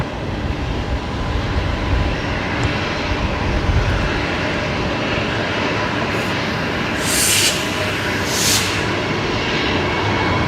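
A Qantas airliner lands at Brisbane Airport with a continuous distant jet roar that swells and fades in gentle waves, then two brief bright hissing bursts near the end.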